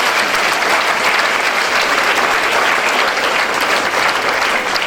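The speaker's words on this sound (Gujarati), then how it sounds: "એકવાર બધા જ બાળકો માટે જોરદાર તાળીઓ પાડી દઈએ," A large audience at a talk gives loud, dense, sustained applause for the children, close and continuous at an even level without pause.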